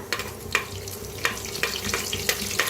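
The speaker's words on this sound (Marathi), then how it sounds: "हे सगळं खडं मसाले भाजून घ्यायचे" Whole spices, including large cardamom, roasting in hot oil in a pan, a soft continuous sizzle punctuated by several sharp scraping stirs, with no talking.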